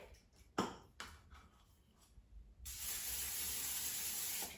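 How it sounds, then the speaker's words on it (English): Non-stick cooking spray is sprayed onto an air fryer basket: a few soft close taps and clinks, then a steady, loud continuous hiss lasting about two seconds. "And now I'm going to spray the air fryer basket with a non-stick cooking spray."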